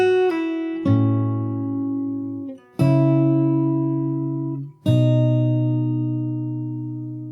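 Slow fingerstyle acoustic guitar from the bridge of a song: four plucked chords, each rung out and left to sustain before the next, close and clear with no talking.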